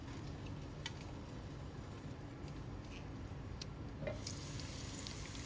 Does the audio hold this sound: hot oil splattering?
yes